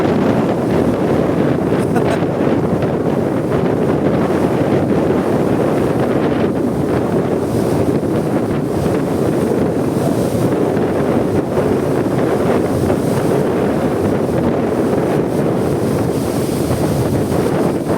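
Strong, gusty sea wind roars into the microphone over big five-foot waves on open water near a boat, a dense, continuous rushing noise without letup for the whole stretch.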